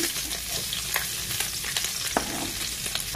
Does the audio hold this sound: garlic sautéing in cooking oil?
yes